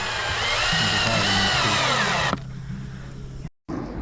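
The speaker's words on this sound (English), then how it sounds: "I put the first couple of screws in and that held the board there pretty nicely." Power drill driving screws into a board on an outdoor fence, a loud, close motor whir rising in pitch for about two seconds, then stopping abruptly, with quiet outdoor background afterward.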